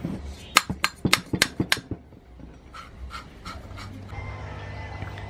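Motorcycle valves on a Yamaha SZ engine being hand-lapped during an overhaul give a quick run of sharp, rhythmic gritty scrapes, followed by softer, scattered rubbing strokes and faint background hum.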